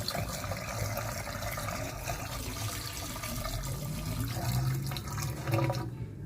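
Hot water pours steadily into a sink drain being cleared of a clog, a continuous close rushing and gurgling splash that swells slightly toward the end, with no talking.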